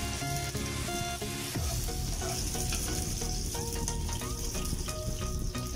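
Onions fry in a hot pan with a dense, continuous sizzle and crackle, loud and close throughout. Music plays in the background.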